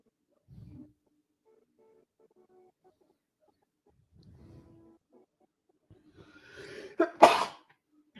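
A single sharp, close sneeze bursts out near the end after a quiet stretch with faint rustles and murmurs, heard during a live watch party of a TV episode.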